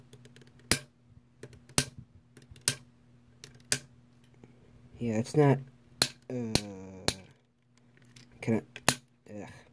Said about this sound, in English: You also have a really loud ratcheting movement outwards